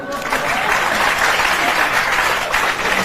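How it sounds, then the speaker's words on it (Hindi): Audience applause at an event with a young child quizzed on geography, loud continuous clapping from a group, steady and close throughout. "ताली बजाइए।"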